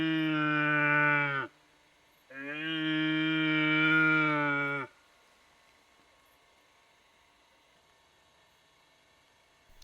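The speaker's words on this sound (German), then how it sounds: "Der Hirsch röhrte hinter dem Waldkomplex am freien Feld aus vollem Hals." A red deer stag roars twice during the rut beyond a forest stand at the edge of an open field, two long, loud, deep bellows, the second longer, then quiet.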